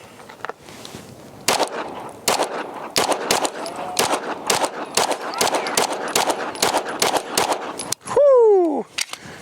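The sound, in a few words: Atlas Gunworks Apollo pistol firing 115 grain rounds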